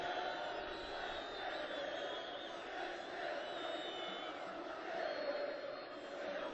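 A large Libyan crowd surrounding Gaddafi roars and cheers in a steady, dense wash of voices that fills the scene without pause.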